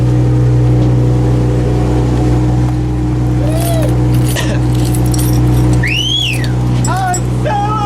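Steady, loud engine drone of a motorboat underway fills the whole ride, with wind and water noise over it; brief whistle-like tones and voices rise above the hum near the end.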